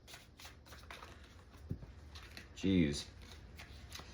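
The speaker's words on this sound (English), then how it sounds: "3 more shuffles." A tarot card deck being shuffled, a soft riffling flutter of cards near the middle, quiet against the room with a brief spoken exclamation.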